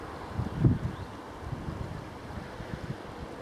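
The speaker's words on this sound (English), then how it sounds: "The wind from the east, so it may be that it will interfere with the sound on the video" East wind buffeting the microphone beside the River Swale during a barbel fishing session, a low rumbling gust swelling early then settling into steady blustery noise, with no talking.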